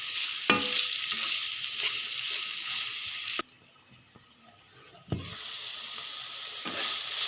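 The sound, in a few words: chicken cooking and being stirred in a pan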